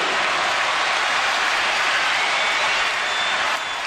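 Crowd at an NBA basketball game between the Golden State Warriors and Dallas Mavericks cheering and applauding, a loud dense roar of claps and shouts that holds steady before easing slightly at the end.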